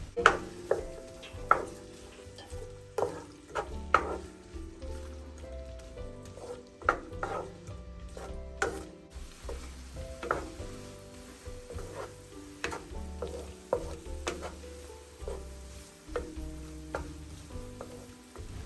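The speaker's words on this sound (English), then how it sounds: "Next, I'm going to be adding some chopped onions, then I'll stir and let this fry for about 2 to 3 minutes." Chopped onions sizzle steadily in vegetable oil and butter in a pan, with a spoon scraping and stirring in irregular close knocks over the continuous frying hiss.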